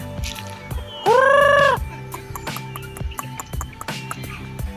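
A single loud, drawn-out fowl call with a strong harmonic tone rings out near the microphone, followed by softer scattered clucks and background farmyard noise.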